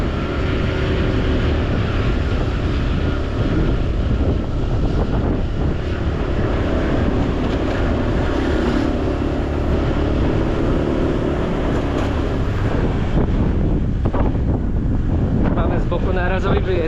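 Gusty wind buffets the microphone while riding a scooter on Ko Sichang island in Thailand, a loud continuous roar with rushing swells and engine rumble beneath, and a voice speaking over it.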